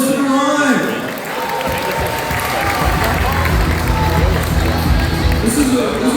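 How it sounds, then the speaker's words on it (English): Crowd at a combat robot fight in a science festival arena in Brisbane applauds and cheers steadily as the robot Derive enters, a dense, sustained roar of clapping and voices with a voice talking over it early on. "Round of applause for Derive"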